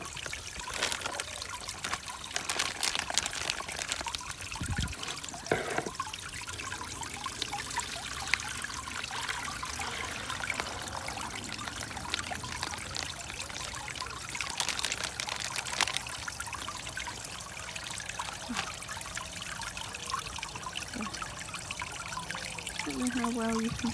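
Water trickles and pours steadily as new koi, about three to four inches long, are tipped from a bowl into a garden pond, a continuous close splashing flow with a few louder spills.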